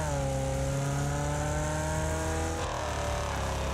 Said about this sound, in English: Like the overrun on the exhaust when you lift off the throttle.